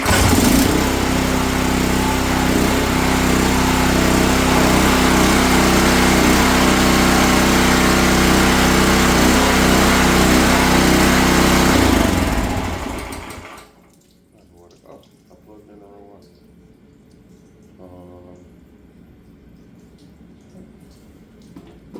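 A Dewalt 4400psi 4GPM gas pressure washer engine roars loud and steady for about twelve seconds, then cuts out, leaving quiet background with a few faint knocks.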